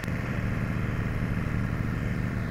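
A Honda CRF300 Rally motorcycle with its stock exhaust idles with a steady, low, even rumble, close and fairly quiet, with no talk.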